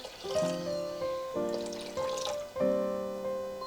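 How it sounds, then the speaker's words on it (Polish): Cold water is poured into the bowl of a Monsieur Cuisine Smart kitchen appliance fitted with a steam juicer attachment, giving three quiet, separate pours with ringing, resonant tones inside the bowl. "Dolewam sobie wodę."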